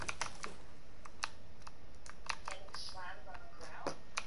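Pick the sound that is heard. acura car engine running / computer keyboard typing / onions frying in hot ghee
computer keyboard typing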